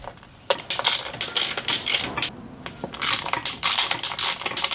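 A ratchet with a 13mm socket loosening the nuts on a strut mount of a 1998 Audi A6 Quattro: rapid bursts of close, crisp clicking in repeated strokes, separated by short pauses, with no speech.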